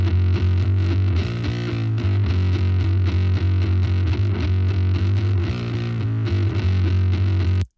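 Thrash metal kick built from a subkick layered with a copy pitched an octave lower: a deep, sustained low-end rumble runs under dense distorted band sound for several seconds before cutting off abruptly.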